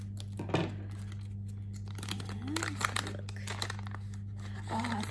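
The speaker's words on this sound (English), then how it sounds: "And I'm going to cut across the top here." Scissors cutting open a plastic K-pop merchandise mailer, with crinkling and snipping sounds in short bursts over a steady hum, and a voice speaking briefly in between.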